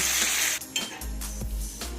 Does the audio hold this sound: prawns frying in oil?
yes